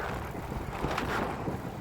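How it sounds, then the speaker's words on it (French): Wind buffets an outdoor microphone in a town square, a soft, uneven rumbling roar with gusty swells throughout the short stretch, no voices over it. "Il y a du vent."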